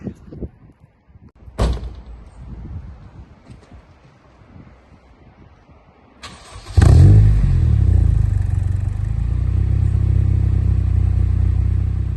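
After a couple of clunks and a door slam, a Honda EJ9 engine swapped to a K-series starts up and runs with a loud, rough, steady exhaust rumble.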